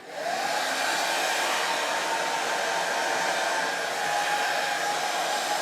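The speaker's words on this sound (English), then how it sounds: "Turn on the hairdryer now and then I'll remove it and we'll see what happens" Hair dryer running on a portable battery power station during a UPS switchover, a steady loud whooshing blow that holds nearly constant throughout, alone with no voices.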